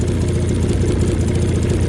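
A Mountain Cat snowmobile engine idles high and steady close by, a dense low rumble with vibration that holds throughout without stalling or any talk.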